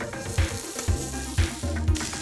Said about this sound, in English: then puts them carefully into a frying pan.